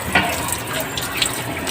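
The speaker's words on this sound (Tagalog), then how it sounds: "Ito natin na nag-drain yung tubig" Water flushing and draining out of the cooling system of an overheating DA64 engine during radiator cleaning, heard as a close, steady splashing, trickling rush of running water with a few brief drips and bubbles.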